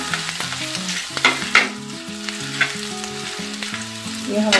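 Crushed ginger with asafoetida sizzling in hot oil while being stirred, a close, steady frying hiss punctuated by spoon scrapes, with background music playing underneath.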